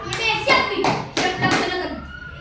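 A few sharp, separate hand claps from children in a secondary-school maths classroom, spread over about two seconds, with a voice talking over them.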